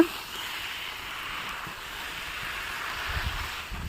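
Wind blowing outdoors under hot sun produces a steady, broad rushing hiss that swells slightly toward the end, with low buffeting gusts against the microphone.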